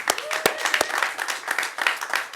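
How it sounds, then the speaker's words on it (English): A crowd applauds and claps steadily in a large room, with scattered louder claps and a voice faintly mixed in. "Big round of applause for the gentleman."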